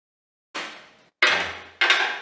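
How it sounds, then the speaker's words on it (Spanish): Hammer blows on a handmade Cartier-style silver chain, three sharp metallic strikes spaced about half a second apart, each ringing and decaying, close and alone. "llegó el momento de golpear la cadena"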